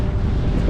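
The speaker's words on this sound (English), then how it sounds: "it's very windy" Strong wind buffets the microphone on a Pennine moor in winter, a loud continuous low roar with no let-up.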